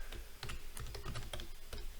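Quiet, quick keystrokes on a computer keyboard while filling in an online booking form, a steady patter of light clicks with a brief pause near the middle, no voices.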